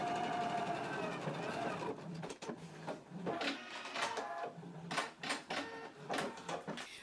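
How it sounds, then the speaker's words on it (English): A sewing machine stitches a 5/8 inch seam in a jacket, its steady mechanical whirring coming in uneven runs and short bursts, close and fairly quiet. "Now I'm going to take it to the machine and stitch in a 5/8 of an inch seam allowance."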